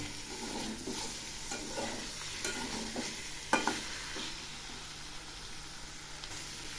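Spices sizzle softly with fried cauliflower in a pan while a spoon scrapes and stirs in irregular strokes, with one sharper knock midway.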